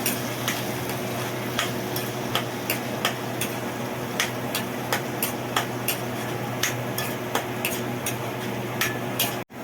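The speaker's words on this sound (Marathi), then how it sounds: "आता आपण हा मसाला भाजून घेऊया" Masala sizzling in oil in a kadai, with a steady frying hiss and regular scraping clicks of a spoon stirring, close up, while making fish curry.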